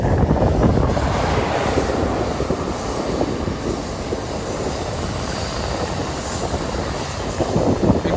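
An Amtrak Capital Corridor passenger train, number 745, led by CDTX locomotives 2101 and 6963, rolls past on a cold night as a loud, continuous roar of wheels and wind buffeting, with no voices.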